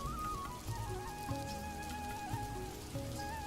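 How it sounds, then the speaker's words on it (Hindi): Heavy rain pours down in a steady, even hiss beneath soft melodic background music. "एक दिन तेज बारिश हो रही थी।"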